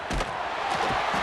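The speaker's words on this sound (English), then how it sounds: "listen to this crowd noise. This stadium is vibrating" A roaring stadium crowd in College Football 26, the Notre Dame vs Michigan game, keeps up a loud, continuous rumble with scattered swells of shouting, heard alone.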